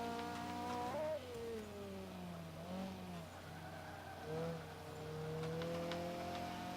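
A TVR race car in Forza 5 drives with a steady engine drone that rises and dips in pitch as it shifts and accelerates, along with faint tire noise, continuous and mid-distance.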